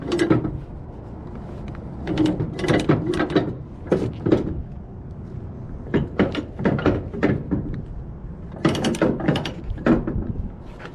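Ratchet straps being cranked tight by hand on a flatbed truck load, heard as repeated bursts of ratcheting clicks in uneven clusters, fairly close and clear, with no talk.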